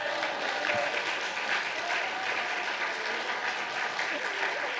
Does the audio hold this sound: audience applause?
yes